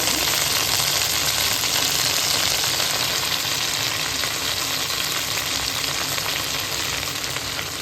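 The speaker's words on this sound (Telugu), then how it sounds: "పచ్చిమిర్చి ఫ్రై అయిన తర్వాత శుభ్రంగా కడిగి ఉంచుకున్న తోటకూర వేసుకోవాలి." Amaranth leaves land among green chilies frying in hot oil, setting off a loud, steady sizzle and crackle that holds unbroken with no voices.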